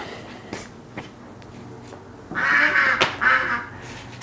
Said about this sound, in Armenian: Սագի ձայն